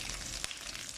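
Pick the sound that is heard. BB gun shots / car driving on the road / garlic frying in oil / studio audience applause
garlic frying in oil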